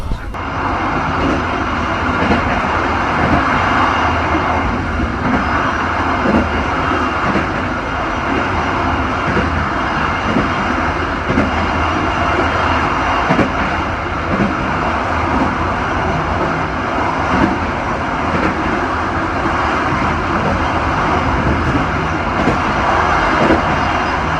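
Steady heavy rumble and roar inside a Sribilah executive-class train running fast between Medan and Araskabu in North Sumatra, continuous and loud throughout with a voice faintly audible beneath.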